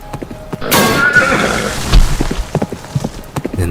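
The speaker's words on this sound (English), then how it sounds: "The horse is seized by terror, bolt forward in a frenzy, dragging the front of the caravan into the mud with a heavy crash." A horse pulling a caravan lets out a loud, close whinny, followed by a run of sharp hoof clip-clops as it bolts forward, with a heavy thud in the middle.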